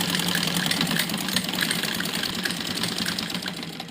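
A sewing machine runs a straight seam across the seat of a child's Afghani salwar, a steady, close mechanical whirr with fast rhythmic needle ticking throughout.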